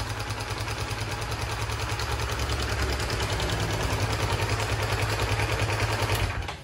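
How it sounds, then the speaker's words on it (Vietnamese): A Honda Winner motorcycle engine idles after starting, a steady low clattering putter that runs evenly and fairly close, alone without voices, then cuts off at the end. "bây giờ nó nổ máy được rồi nè anh em"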